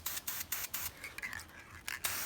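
Spray paint can hissing onto car wheels during an Acura Integra build, short repeated bursts of spray with brief pauses, close and fairly quiet, no talk.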